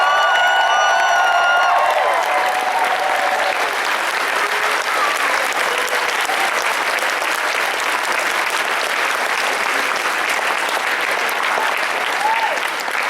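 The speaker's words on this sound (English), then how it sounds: "Everyone give them a big round of applause, please." A large convention crowd applauds during a closing ceremony at a hotel venue, sustained clapping with scattered cheers and whoops, while a few tonal sounds linger at the start.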